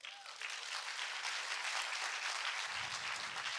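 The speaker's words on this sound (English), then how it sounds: "Big round of applause to Deep." Audience applause at a startup launch event, a steady wash of many hands clapping that stays fairly even throughout, heard alone with no talking.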